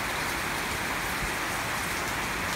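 Steady rain pours down during a squall in Wallis, a dense even hiss of drops on surfaces that continues without a break.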